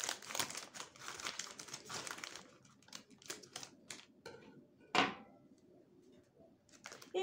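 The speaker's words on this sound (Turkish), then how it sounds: "Şimdi ikinci paketi de açıyorum." A plastic package of frozen börek is opened and handled with irregular crinkling and rustling bursts, quiet overall, with one sharper crackle near the end.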